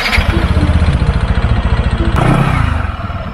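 A Kymco Grand Dink 300i motor scooter's engine idles with a rapid close throb, then revs up briefly as the rider sets off, loud and steady with a faint clatter.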